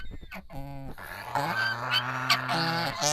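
Geese honk repeatedly at close range in their pen, loud nasal calls overlapping one another in quick succession.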